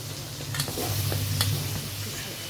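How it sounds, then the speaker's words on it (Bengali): Capsicum frying in melted butter in a kadai, giving a steady close sizzle with light stirring scrapes throughout. "ফার্স্টে বাটার দিয়ে এই ক্যাপসিকাম আর টমেটোগুলো ভেজে নেব হালকা করে।"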